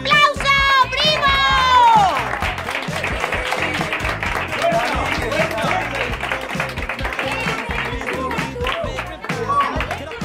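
A small group claps and cheers at a birthday gathering, shouting and whooping over steady close applause, with voices calling out near the start.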